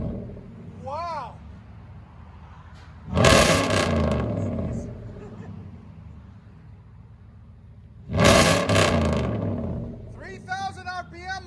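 A Nissan/Infiniti V6 or V8 engine revved twice to 3,000 RPM, each a loud roaring burst of about a second that settles back to idle, with voices talking between the revs.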